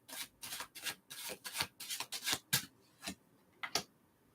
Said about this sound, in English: Y'all hear me shuffling.